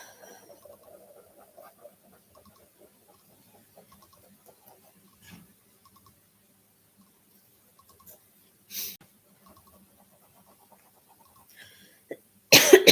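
Two sharp coughs break a near-silent room, one midway and a harsher one near the end, with faint small noises in between.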